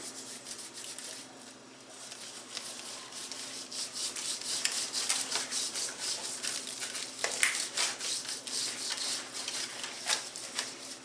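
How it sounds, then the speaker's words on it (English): Seasoning rub is worked by hand into a rack of babyback ribs, producing soft, repeated dry rubbing and scraping strokes, close up and quiet, with no talk. "You rub it in."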